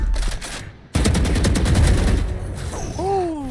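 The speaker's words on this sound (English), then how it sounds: "She shot through the wall." Rapid bursts of automatic gunfire shot through a wall in Valorant, loud and close, a short volley, a brief pause, then a longer sustained stream of shots that tapers off, with a rising electronic chime at the end.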